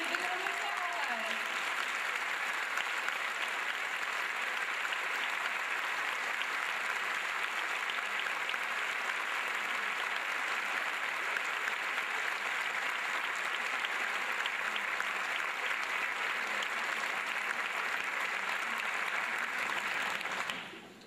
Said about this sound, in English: so that we can all give you a big round of applause